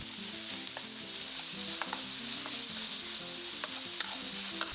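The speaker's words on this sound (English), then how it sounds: "Add the Sichuan Pixian broad bean paste and stir fry for another minute." Steady sizzling of Sichuan Pixian broad bean paste stir-frying in a wok, with soft scraping and clinks from stirring scattered throughout; no voices.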